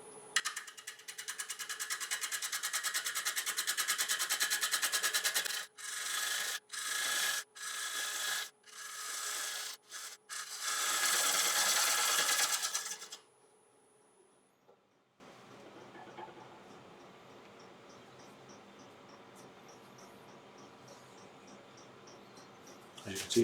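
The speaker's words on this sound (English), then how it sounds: "So 3/8 ball gouge, I'm just going to throw up the face of it here." A 3/8 ball gouge cuts across the face of a dusty wooden platter spinning on a lathe at 600 RPM, making a steady close rasping hiss broken by short pauses, then fading to a quieter machine hum.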